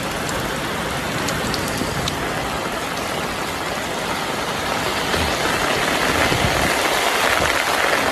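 Heavy rain pours steadily on a rural home from morning to evening, a dense, loud hiss of drops on surfaces that holds constant throughout with no talk.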